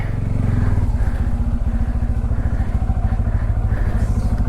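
A Bajaj Pulsar N250 motorcycle engine runs close by under a shed, a loud, rhythmic low-pitched thumping idle that holds steady throughout.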